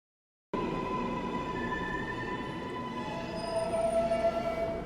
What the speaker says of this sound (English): The skater rode the subway towards the moon.